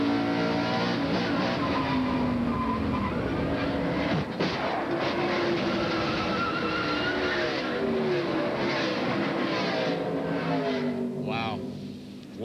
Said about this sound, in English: just watch how quickly that car slid across the track and hit the inside retaining wall